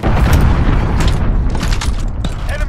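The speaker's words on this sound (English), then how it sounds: "Enemy cruise missile incoming." A cruise missile strike lands in Call of Duty: Modern Warfare multiplayer, a heavy close boom that rolls on as a sustained rumble, with sharp cracks of gunfire flicking through it.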